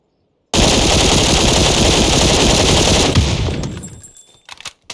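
Sustained automatic fire in the video game PUBG, a dense, loud, continuous burst of rapid shots lasting a few seconds before cutting off and trailing into a few scattered clicks and fading echoes, with no talk.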